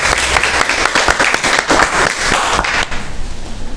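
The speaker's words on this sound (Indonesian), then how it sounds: "Tepuk tangan." A classroom audience claps loudly and steadily after a group presentation, dense applause filling the whole stretch before easing slightly at the end.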